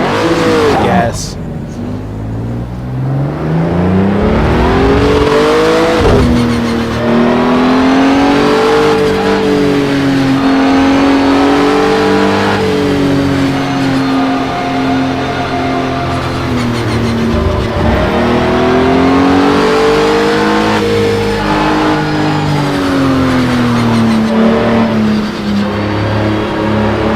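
A race car engine in Project Cars 2 revs and accelerates continuously and loudly, its pitch climbing and dropping repeatedly through gear changes and corners for the whole stretch.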